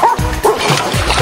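A dog giving a few short, yipping barks and whimpers up close, loud and bunched together, with a faint splash underneath.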